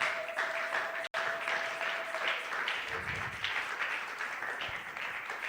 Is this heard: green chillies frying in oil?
no